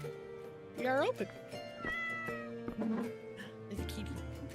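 A cat meows in a video game, a clear rising-and-falling cry, with more game sounds and background music around it and a voice talking in between.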